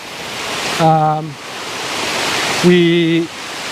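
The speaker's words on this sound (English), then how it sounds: "I'm just going to shoot this here behind me, the waterfall" A waterfall somewhere in Australia roars in a broad, steady wash behind the camera, while a voice speaks over it twice in short bursts.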